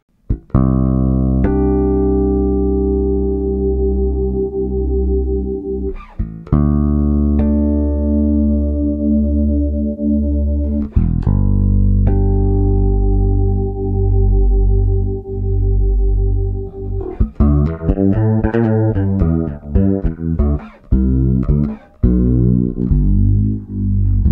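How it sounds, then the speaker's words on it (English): Deep electric bass notes, played alone, ring out through the Deep modulation effect of a Bass Whammy pedal. The pitch wavers and shifts, ending in a busier run of notes. "Did you know the Bass Whammy has also two modulation sounds built in?"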